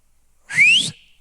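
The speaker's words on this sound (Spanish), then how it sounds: "déjame hacer un silbidito" A single short whistle, rising in pitch, sounds clearly against near silence.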